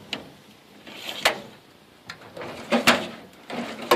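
Drawers of a Kennedy metal toolbox opened and closed repeatedly, giving sliding rumbles and several sharp metallic clicks and clunks close by, with no talking.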